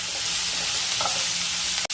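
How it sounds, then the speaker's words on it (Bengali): Potatoes sautéed in a pan for a Bengali muri ghonto, giving a continuous close, loud sizzle with faint scrapes of stirring underneath and a brief cut near the end. "আলুটাও একটু কষিয়ে নেব।"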